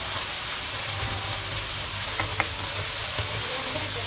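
A garlic and ginger mixture frying in a pan for beef biryani gives a steady, soft hiss of sizzling oil, with a few faint clicks of stirring and a low background hum.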